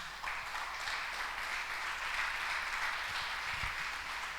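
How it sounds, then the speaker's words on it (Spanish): A church congregation applauds loudly and continuously, a dense, sustained wash of clapping that fills the whole stretch. "Dale un fuerte aplauso al Señor."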